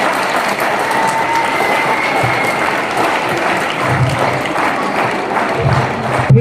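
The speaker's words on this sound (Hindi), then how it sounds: "बजाओ ताली" An audience at a speech claps steadily and fairly loudly in a dense, even wash. Applause alone, no one speaks over it.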